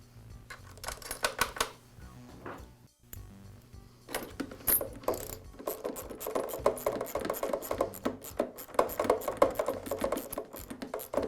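Carriage bolt, washer and nut being tightened to fix the lower handle of a Black and Decker electric mower into the deck, heard as close, repeated clicky metallic ratcheting and scraping in irregular bursts, with a short pause partway through.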